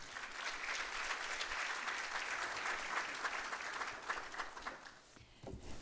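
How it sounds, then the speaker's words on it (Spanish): Audience at an international seminar on recall referendums applauds steadily for several seconds as a speaker is introduced, dense clapping that thins slightly near the end. "Le brindamos un fuerte aplauso."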